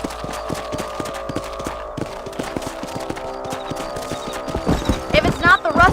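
Horses galloping in Red Dead Redemption, a steady fast clip-clop of hooves running throughout with a whinny near the end, loud and close under game music and ambience.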